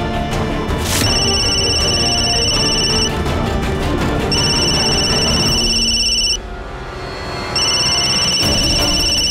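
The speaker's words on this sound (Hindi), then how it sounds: "ये तो बिग बी का रिंगटोन है ना" A phone rings with a repeating electronic tone in bursts, pausing briefly between rings, over a low background hum.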